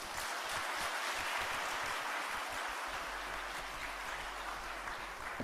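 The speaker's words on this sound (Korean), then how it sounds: "우리 박수로 환영하십시다." A church congregation applauds to welcome a missionary at a North Korea mission report service, a dense, steady wash of clapping filling the whole stretch with no voices on top.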